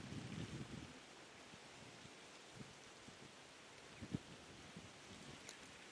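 Wind blows steadily during an early-morning safari game drive, a broad, faint rushing with a gustier stretch at the start and occasional small knocks, with no talking.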